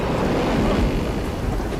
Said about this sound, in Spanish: se levantó en el mar una tempestad tan grande que la barca quedaba